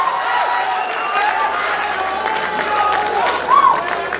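Audience applause at a poetry recital (kavi sammelan) during Gorakhpur Mahotsav 2021, a steady wash of clapping from a large crowd with a voice briefly audible over it.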